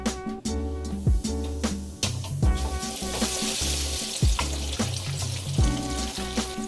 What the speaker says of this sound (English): And fry these.